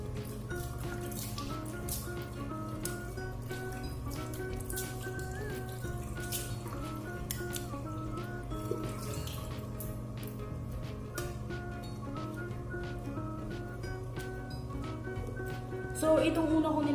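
Water runs steadily from a bathroom sink tap while a face is rinsed during a bedtime skincare routine, a continuous close stream with drips and small splashes, and a sharper splash near the end.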